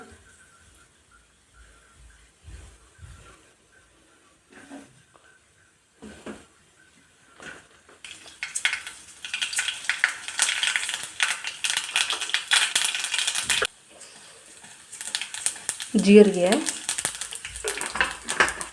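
Mustard seeds and cumin splutter in hot oil in a pan as a steady, busy crackle of tiny pops, starting after scattered quiet clinks and running loud to the end, with a brief voice near the finish.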